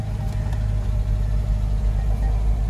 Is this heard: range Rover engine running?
yes